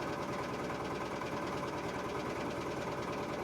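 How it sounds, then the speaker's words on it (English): An outboard boat motor on a lake runs with a harsh, steady crackle and rapid knocking pulses, close and continuous throughout, with no talking. "the harsh crackle of the outboard motor on the otherwise tranquil lake"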